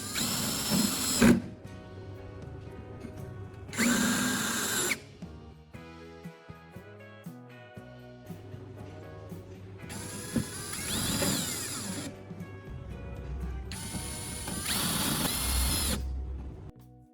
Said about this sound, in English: I'll secure them tightly with screws.